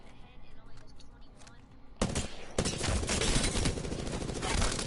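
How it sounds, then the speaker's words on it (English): Automatic weapon fire in a PS4 video game erupts after a quieter stretch, loud sustained bursts of rapid gunshots continuing to the end, with a voice heard faintly early on. "I'm gonna go try out some auto fire."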